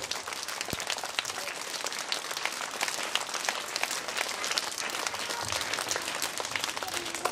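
An audience at a school complex launch breaks into sustained applause, a dense steady patter of many hands clapping at moderate distance for several seconds.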